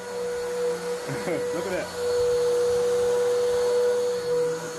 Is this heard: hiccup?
no